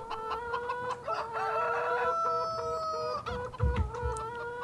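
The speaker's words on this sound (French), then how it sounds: "Je vois plein de poules, effectivement. On a un coq ici." A flock of farm hens clucks in a dense overlapping chorus while a rooster crows clearly and close over them, with a few low thuds near the end and no talking.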